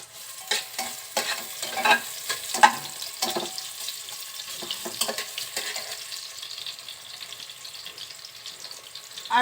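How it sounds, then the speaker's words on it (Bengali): Chopped onions sizzle and fry in hot cooking oil inside a pressure cooker, with steady close crackling and a few louder stirring scrapes early on, no voices. "তেলটা সামান্য গরম হলে পেঁয়াজ দিচ্ছি।"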